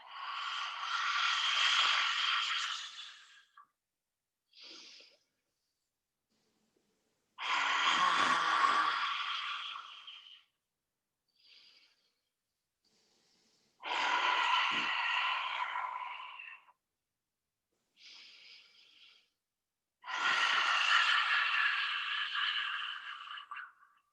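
Forceful lion-breath exhalations from a yoga practice, four long, breathy rushes of air, each lasting a few seconds, with shorter, quieter inhalations in the gaps between.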